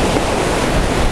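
Storm waves pound the Black Sea shore near Simeiz in Crimea, a loud, unbroken roar of surf and spray mixed with heavy wind buffeting the microphone, close and continuous.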